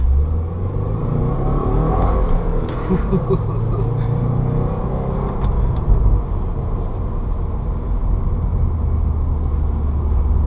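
A 2015 Subaru WRX with a five-speed manual gearbox accelerates around a race track, its engine a continuous loud rumbling drone heard from inside the car. Someone speaks faintly over the engine noise.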